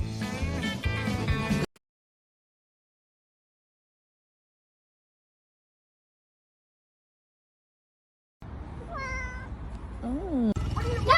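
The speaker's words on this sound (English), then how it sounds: "I thought you were just meowing." A pet cat gives a few rising and falling meows close by after a long stretch of silence, with household noise around it.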